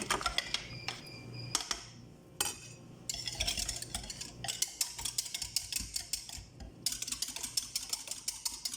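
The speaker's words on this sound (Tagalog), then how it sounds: "Haluin natin guys." Spoon or whisk stirring an egg into sweet bread batter with sugar, baking powder and vanilla in a bowl, giving close, irregular scraping clinks and taps against the bowl, played alone without talk.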